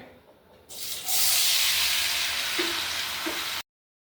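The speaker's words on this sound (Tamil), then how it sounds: "ஃபஸ்ட்டு தக்காளியை போட்டுக்கிறேன்" Tomatoes drop into hot oil for a homemade tomato pickle, setting off a loud, steady broadband sizzle that swells suddenly and holds for a few seconds before cutting out.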